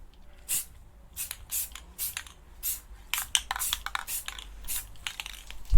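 Short bursts of spray paint hiss as light primer coats go onto an art toy, about a dozen quick sprays in an irregular rhythm, close and fairly loud with quiet gaps between.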